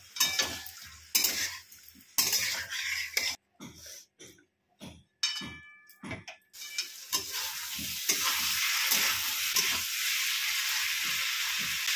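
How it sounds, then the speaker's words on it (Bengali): Spice paste frying in a pan over a low gas flame for a Bengali yogurt-cauliflower curry, heard close. Bursts of spatula stirring and clatter give way to a loud, continuous sizzle as the paste cooks. "গ্যাসের ফ্লেমটা লোতে দিয়ে মশলাটা খুব ভালো করে কষিয়ে নিচ্ছি"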